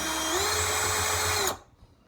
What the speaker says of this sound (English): We're going to go ahead and drill here.